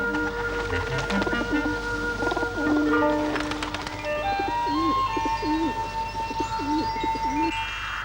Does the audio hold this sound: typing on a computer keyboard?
no